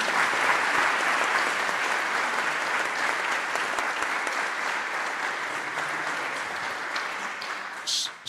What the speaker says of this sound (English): So if we could just give them a round of applause, please.